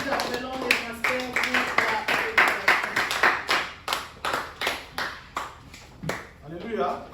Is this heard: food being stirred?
no